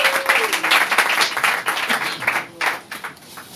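A church congregation applauds together in a dense, sustained round of clapping, loud and close, with a voice briefly heard within it.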